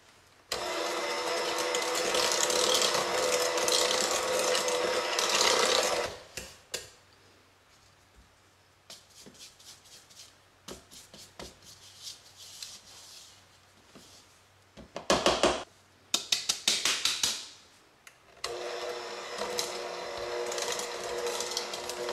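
An electric mixer whirs while mixing dough for Christmas cookies, running loudly for several seconds, stopping, then starting again in shorter bursts with quiet gaps between.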